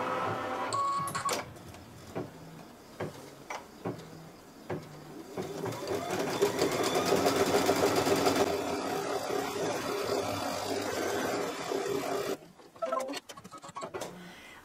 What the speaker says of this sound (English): the first thing it's going to do is stitch the placement line for the batting.